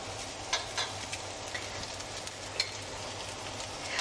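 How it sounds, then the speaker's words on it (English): Sweet potato hash browns crisp in a hot frying pan, a steady soft sizzle with a low hum beneath and a few faint clicks and taps, close and unaccompanied by talk. "we're just crisping them on each side"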